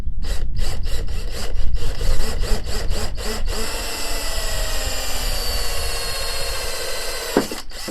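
A drill bores a hole through the plastic bumper of a Fiat 500. It starts with a run of short rhythmic bursts, then settles into a loud, steady whir with a brief catch near the end. The sound is close and has no talk over it.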